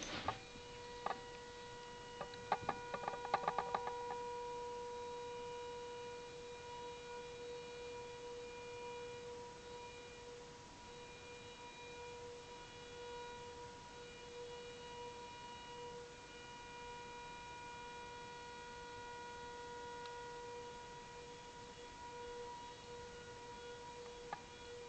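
Eerie trumpet-like horn tones drift through the night sky outside a remote mountaintop home, sustained steady pitched drones holding over a quiet background, with a brief cluster of faint ticking near the start.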